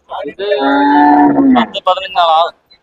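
A Jersey cow at a cattle market gives one loud, close, drawn-out moo, followed by a couple of shorter lowing calls, with no talk over it.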